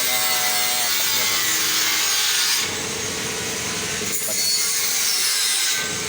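Metal is ground down while a weld is being prepared, giving a harsh, abrasive rasping that runs loud and continuous, dipping briefly at moments as the grinder shifts, with no speech.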